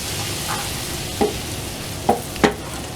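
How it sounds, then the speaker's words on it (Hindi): Red chili powder stirred and fried in hot oil for a daal tadka, a soft steady sizzle with three short scraping stirs of a spoon against the pan. "इसको मिक्स करें, पकाएंगे अच्छी तरह इसको"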